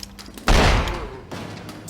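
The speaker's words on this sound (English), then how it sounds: "I think I wasted one shotgun blast because I was too far away." A shotgun blast fired from too far away in the video game The X-Files: Resist or Serve, a single loud, heavy boom that hits hard and then fades into a lingering rumble, with no talk over it.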